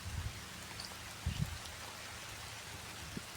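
Rain falls over a farm in a faint, steady hiss, broken by a few soft low thuds.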